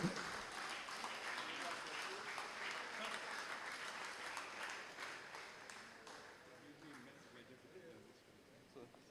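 An audience at a Universal Brotherhood Day 2023 awards ceremony applauds a daughter, a doctor, accepting an award on someone's behalf. The clapping is full and sustained, with voices mixed in, and it gradually tapers toward the end.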